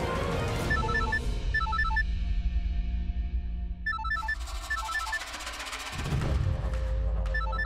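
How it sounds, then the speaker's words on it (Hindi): A telephone rings repeatedly in a domestic TV drama scene, its electronic trill repeating in short bursts over a steady background music bed, with a brief pause before ringing resumes. "फोन उठाओ"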